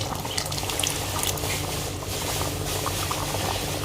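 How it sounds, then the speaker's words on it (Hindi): Ragda, a white pea curry with tamarind water, boils in a pot on the stove, giving a steady, close bubbling and gurgling that continues evenly throughout with no voices. "बॉयल आ चुका है जी हमारे लगड़े को"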